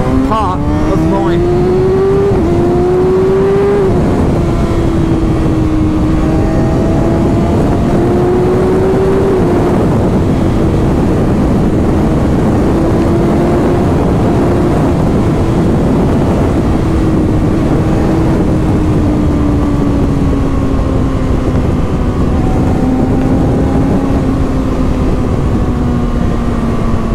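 Kawasaki Ninja 636 sport motorcycle ridden at night, engine droning steadily close up with rising and falling pitch as it shifts through gears, continuous road and wind roar underneath throughout.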